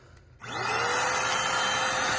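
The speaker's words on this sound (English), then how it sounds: "I'm just gonna demonstrate it as the actual stick vacuum. So to turn it on, you just click here." A Eureka Home Mini corded stick vacuum switches on after a quiet moment and spins up into a loud, steady whirring roar that holds without voices.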